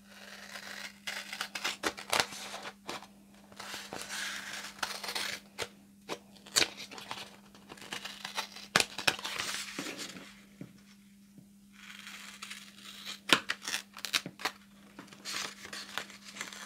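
Scissors snip and slice through sticker paper in a quiet crafting setting, giving a run of small crisp cuts and crinkles at an even working pace, close up with no talking.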